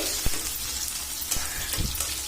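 Onion, garlic, cinnamon, cardamom, cloves, peppercorns and bay leaves fry in a wok, giving a soft continuous sizzle broken by a few brief clinks and scrapes of a utensil.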